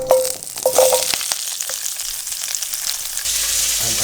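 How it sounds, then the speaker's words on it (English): Pak choi and carrot hit hot oil left from pan-frying pangasius fish, giving a bright, steady sizzle with scraping and tossing sounds from stirring, close up and with no voices. "in the same oil in which I pan fried my Pangasius, I'm going to stir fry these beautiful vegetables"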